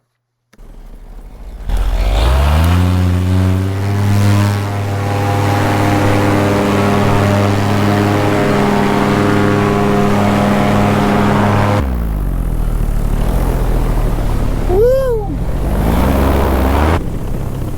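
A paramotor engine flown with an Ozone Freeride wing starts and rises to a loud, steady droning roar for takeoff, close and continuous, with a pitch shift near the end.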